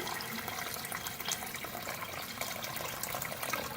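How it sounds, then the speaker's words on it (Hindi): Steady splashing rush of water pouring into a cooking pot of beef trotters, continuous and close, with no talking. "अब इतना पानी शामिल करेंगे"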